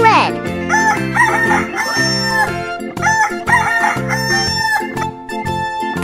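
Rooster crowing in a Paint 3D animal crossing game, several loud cock-a-doodle-doo calls in a row, with clucks over a steady musical backing track.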